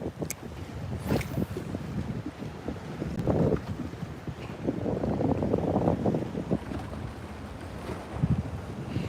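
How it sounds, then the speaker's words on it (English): Wind blowing outdoors on the water during a hurricane, buffeting the microphone in gusty rumbling surges, with faint water and boat noise beneath and no clear talk. "Can you hear that wind blowing in?"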